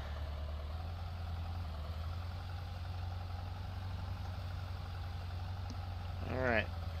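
A tractor engine idling with a low, steady drone while reversing, holding an even level throughout, then a short chirping sweep near the end.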